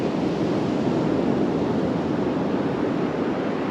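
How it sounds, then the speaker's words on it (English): Ocean waves crash on the beach at Huntington Beach State Park at dawn, a continuous broad wash of surf with light wind noise on the microphone and no talking. "just sit here and listen to the waves crash"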